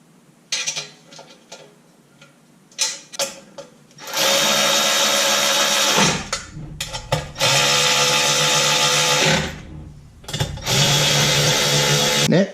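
Short bolts being threaded into an LS oil pan, first with light scattered ticks and clicks, then long loud whirring bursts of a power driver running them in, stopping and starting several times.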